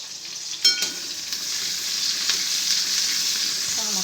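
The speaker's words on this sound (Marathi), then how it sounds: "कांदा तळून घ्यायचा" Onion fries in hot oil with cumin and mustard seeds, a continuous bright sizzle with a clatter of the spoon near the start and light scraping toward the end, without voices.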